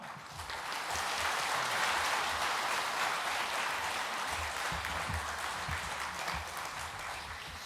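Loud, sustained applause from a large church congregation at a Wednesday morning seniors' worship service, steady and dense throughout with no voices on top.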